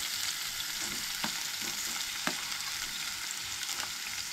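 Onion frying in a pan sizzles steadily with a bright, hissing crackle, punctuated by a few soft clinks and stirring taps, close and continuous with no talking.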